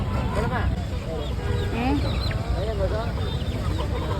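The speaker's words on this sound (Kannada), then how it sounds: "ಗಿರಿರಾಜ ಇಲ್ಲ, ನಾಟಿ ಕೋಳಿ" Native country chickens cluck and squawk at a weekly village market, several birds calling in short bursts amid crowd noise and people haggling over the price.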